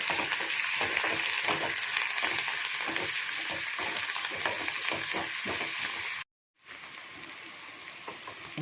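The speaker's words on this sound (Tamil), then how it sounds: "கொத்தமல்லி, கருவேப்பிலை சேர்த்து வதக்கலாம்." Onion chutney ingredients sauté in hot oil with coriander and curry leaves, a close, steady crackling sizzle that cuts out for a moment and then resumes.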